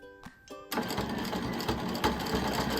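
After a brief quiet start with faint tones, a sewing machine starts up and quilts fabric on a mandala piece, a close, rapid rattling stitch that runs steadily to the end.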